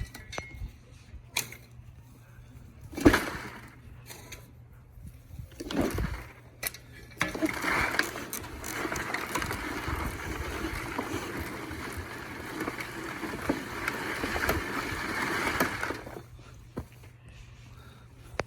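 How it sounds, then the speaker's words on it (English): A mining trommel turns and sifts garden dirt, a rough rumbling rattle of soil tumbling through the screen that rises mid-clip and holds steady, with scattered knocks before and after. "Mining trommel, gardening purposes."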